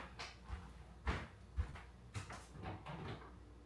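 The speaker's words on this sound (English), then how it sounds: "Let me close this door." An indoor door is pushed shut, giving a few soft thuds and knocks close by in a quiet room. Light handling noises can be heard between the thumps.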